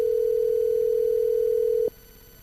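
A telephone line during a call, sounding as a single steady electronic tone that holds for about two seconds and then cuts off into quiet line hiss.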